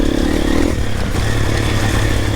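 A 4-stroke enduro motorcycle engine drones steadily while the bike rides through a flooded trail, with water splashing and clattering, loud and close throughout.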